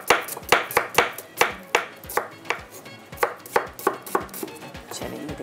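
Onions chopped with a knife on a board, a brisk run of sharp, close thuds in a steady rhythm with a few brief pauses, no voices.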